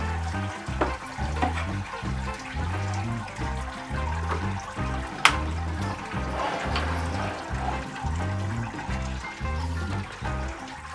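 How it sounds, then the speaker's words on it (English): Wort drains through a bed of rice hulls during a homebrew mash for a Belgian witbier, a steady close trickle and gurgle over a rhythmic low pulsing, with no voices. "It sounds like it's draining well. Rice hulls are doing their job."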